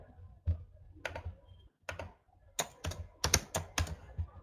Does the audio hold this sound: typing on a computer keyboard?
yes